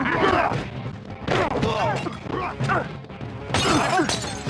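Glass and objects shattering and crashing in The Warriors video game as a gallery is smashed during the final battle against the Hi-Hats, a busy run of breaking impacts layered over shouting voices and game noise.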